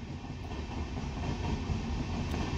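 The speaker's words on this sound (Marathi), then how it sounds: "ट्रेन चालली आहे बाजूनी. रेल्वे ट्रॅक आहे." A train rolls past on railway tracks just beyond a company wall, a steady low rumble and rattle of wagons that stays constant throughout, with no voices.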